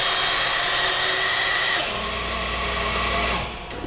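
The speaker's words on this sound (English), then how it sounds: "I got a 1/2-inch spot drill here." A half-inch spot drill, held in a machine collet, cuts continuously with a dense, loud grinding whir that eases slightly partway through and tapers off near the end.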